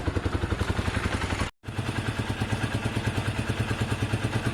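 A motorcycle engine, a Sinnis SC125 fitted with a performance carburettor, idles steadily up close with a rapid, even throb, cutting out for a brief moment before running on.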